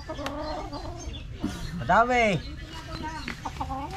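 A chicken clucks in short bursts close by, with people talking over and around it.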